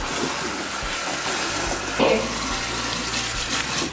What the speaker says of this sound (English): we're going to rinse the cabbage off with cold water